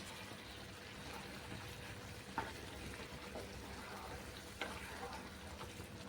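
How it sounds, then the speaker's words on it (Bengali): Fried prawns dropped into a sizzling prawn curry in a pan, a steady low sizzle broken by two sharper clatters of spoon or ingredients hitting the pan. "এখন আমি ভাজা চিংড়ি মাছ দিয়ে দিচ্ছি।"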